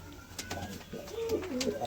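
A pigeon coos nearby in a loft, a low throaty warble repeating, with light tapping and shuffling noises around it.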